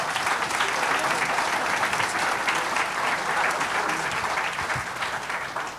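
Audience at an Ohio U.S. Senate Republican candidate forum hosted by FreedomWorks claps for the candidates, a steady, dense wash of applause lasting several seconds and tapering slightly at the end.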